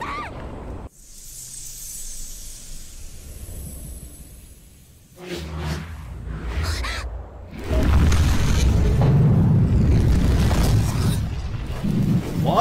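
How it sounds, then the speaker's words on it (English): A fire vortex explosion in an anime fantasy episode, with a quiet stretch that gives way to a loud, sustained roaring blast surging over the last several seconds. "Fire vortex!"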